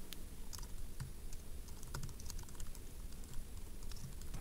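Computer keyboard being typed on to enter a stream title, a quick run of light, close key clicks with irregular rhythm over a faint background hiss.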